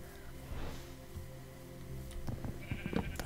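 Minecraft sheep bleating in a modded 1.7.10 game world, a few short blocky bleats over steady game music and ambient tones, moderately loud.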